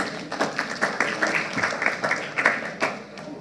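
Audience clapping at a political speech in a St. Michael meeting hall, a short burst of scattered, moderately loud applause from a modest crowd that tapers off toward the end.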